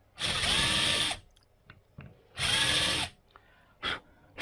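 A power drill whirs in two sustained bursts of about a second each, cleaning out holes in a cedar strip boat's bottom, with short clicks and a brief trigger blip between them.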